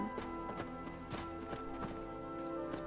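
Horse hooves clip-clopping in the video game Skyrim, a faint, irregular series of hollow knocks at a walking pace.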